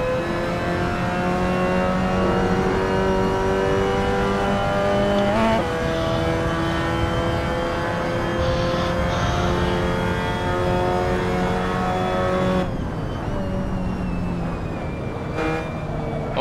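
Several race cars from an Assetto Corsa Mazda MX-5 rookie race at Mugello rev hard close together, steady loud engine drone with shifting harmonic pitches and a brief gear-change break, one car right behind, no talking.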